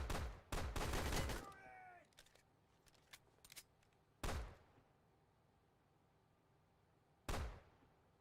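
Gunfire in the video game Blackhawk Rescue Mission 5: a loud sustained burst of automatic fire, a few sharp single shots, then two more heavy short bursts spaced apart, with quieter game ambience between.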